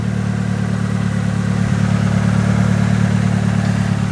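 Nissan S13 engine running steadily while the car rolls, a loud, continuous low droning hum heard from outside the car with no talk over it.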